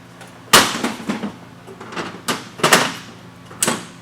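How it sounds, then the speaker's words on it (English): A metal shutter is pulled closed and locked with pins, giving a run of sharp clanks and rattling scrapes, several distinct loud hits spaced irregularly and close by, with no talk. "Okay, we can now pull the shutter closed"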